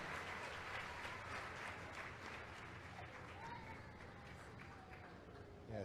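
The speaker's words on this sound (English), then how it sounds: "All together, a big round of applause." Audience applause at the naming ceremony of the MSC Seaside cruise ship, a steady wash of many hands clapping from a large crowd, somewhat distant and continuous, with faint voices mixed in.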